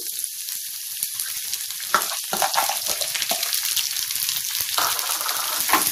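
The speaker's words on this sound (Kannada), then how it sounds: "ಈರುಳ್ಳಿ ಸ್ವಲ್ಪ ಫ್ರೈ ಆಗಬೇಕು" Onions fry in a pan for spicy bread toast, a constant bright hiss of sizzling oil with occasional crackles and stirring scrapes, close and steady with no voices.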